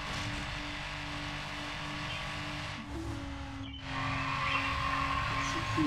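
A car races in the video game Need for Speed Underground, its engine droning steadily at moderate volume, with a brief tire squeal or skid partway through and the engine pitch surging afterward.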